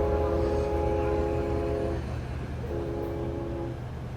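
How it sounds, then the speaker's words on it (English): A train departing from a station in wartime Ukraine sounds a loud, sustained two-tone horn that holds, breaks briefly, then returns over a constant low rolling rumble of the cars. "So our train is departing now."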